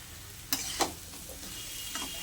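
Spices frying and being stirred in a pan for katoa data, a traditional village-style Bengali drumstick dish, a steady faint sizzle broken by a few louder scrapes and clinks.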